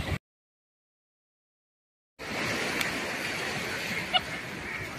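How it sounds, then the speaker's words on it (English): Ocean surf at Pirates Beach in Mombasa County, Kenya, breaking on the shore as a steady broadband wash that starts after a short silence and continues without talking. "I hope you can hear the waves. They are crashing on the surface and it's just a beautiful noise"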